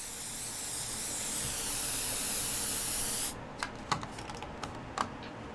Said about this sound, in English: A special test spray simulates smoke.